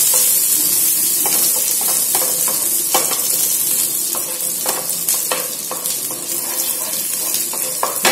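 Butter melting and sizzling in a frying pan for vegetables, a steady close hiss with scattered clinks of a spoon or utensil against the pan throughout.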